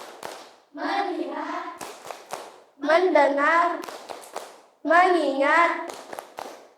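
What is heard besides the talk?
class doing rhythmic clapping pattern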